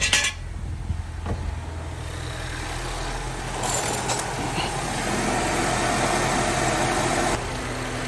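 A 2013 Mini Cooper S engine idles steadily on a hot day, a constant low rumble with no speech over it and a brief mechanical clunk near the start.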